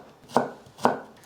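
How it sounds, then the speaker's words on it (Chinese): Knife chopping through a carrot on a cutting board, cutting it into thin strips: two crisp, close knife strokes about half a second apart, each a sharp thud with a short crunchy tail, and no talking. "给红萝卜切细丝"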